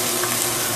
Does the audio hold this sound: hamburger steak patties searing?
yes